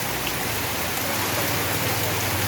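Heavy rain pours down in Jaipur, Rajasthan, a dense, even hiss that stays steady throughout with a low background rumble and no voices.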